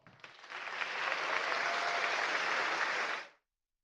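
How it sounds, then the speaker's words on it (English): Conference audience at a Ruby developer event breaks into broad applause that builds quickly, holds steady at moderate distance, then cuts off abruptly, with no talk over it. "Great big applause."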